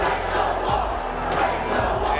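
An esports crowd at the Halo World Championship 2023 winner finals, OpTic against SSG, roars and chants in a dense, continuous wall of cheering, with rhythmic thumps and shouts.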